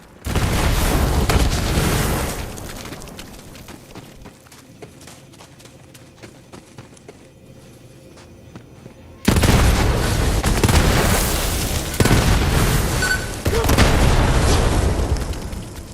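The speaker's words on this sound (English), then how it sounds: "Explosion noise." Heavy explosions and bursts of gunfire from a Borderlands 3 firefight, loud booming blasts at the start, then a quieter stretch, before a second dense barrage of rumbling detonations and shots.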